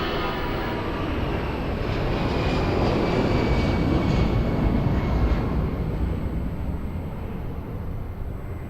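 A jet airliner on its takeoff roll from runway 02 at Lisbon Airport, a steady broad engine roar holding strong throughout from a moderate distance, with no voices.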